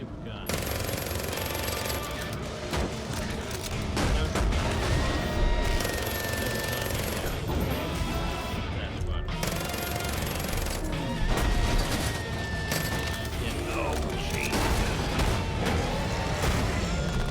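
Rapid gunfire from the super gun in the Far Cry 5 zombie mode, dense, continuous bursts of shots with game effects and occasional electronic tones over them, and someone talking over parts.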